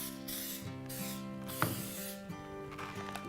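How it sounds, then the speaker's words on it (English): Nonstick cooking spray hisses in short bursts into a 9x13 pan, with faint clicks and a mechanical ratcheting rattle from the can, close but quiet. "spray a 9x13 pan with some nonstick cooking"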